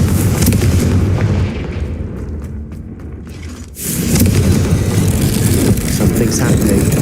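A Confringo spell explosion in Hogwarts Legacy, a loud booming blast with heavy rumbling that dips briefly mid-clip and then surges back with a broad roar, mixed with game sound effects.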